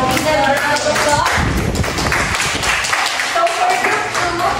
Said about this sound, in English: So this is the round of applause.